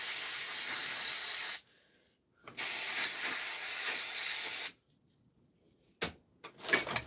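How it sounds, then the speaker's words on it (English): An aerosol can sprays onto a motorcycle engine's clutch in a workshop, with two long, steady hissing bursts followed by a few short, sharp squirts separated by silence. "That's a bit of magic spray."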